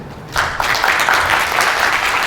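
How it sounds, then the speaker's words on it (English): A conference audience at a PyCon talk applauds the presenter, bursting into loud, dense clapping after a brief quiet start and continuing steadily. "let's give Mr. Trofimov another applause for being a great presenter"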